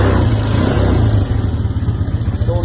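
A Honda TRX 500 FM quad bike engine revs loud and close. The deep throbbing exhaust note rises under the throttle, then falls back to a lumpy, pulsing run.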